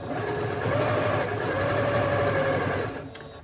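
A sewing machine runs steadily, stitching the hem of a pair of jeans in one continuous loud burst, then slows and stops near the end.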